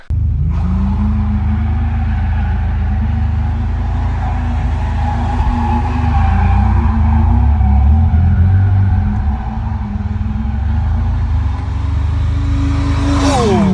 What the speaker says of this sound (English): I'll throw up some drift clips as well of us practicing in an enclosed course